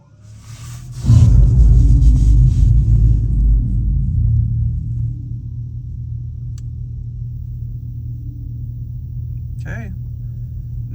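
A 2026 Dodge Charger Daytona starting up: a deep rumbling engine fires about a second in, holds a loud throaty idle, then settles lower and steady, heard up close.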